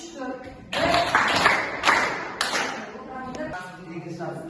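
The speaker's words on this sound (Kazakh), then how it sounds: "білім тобын 3 шапалақпен барлаймыз" A school class claps together three times in quick, loud bursts, with people talking before and after, during a lesson.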